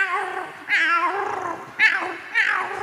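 A person imitates a cat's meow with three drawn-out, whiny mewing cries spaced about a second apart, close and fairly loud.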